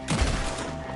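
Gunfire in a Red Dead Redemption 2 shootout, a loud close burst of overlapping shots with a heavy boom, filling the short moment.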